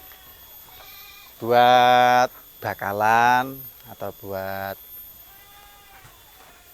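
Boer goats bleating at a goat farm on a hillside: several loud, wavering bleats close by in quick succession, then fading, with faint voices around.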